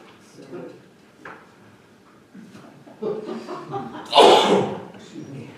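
A sharp, loud sneeze bursts out near the end of a council meeting, following quieter murmurs and small room noises.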